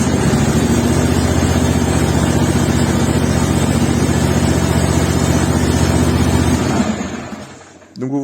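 A Colombia PA185CT102H ride-on lawn tractor engine runs steadily after starting, a loud, close, rough droning hum that holds for several seconds before cutting out and briefly sputtering.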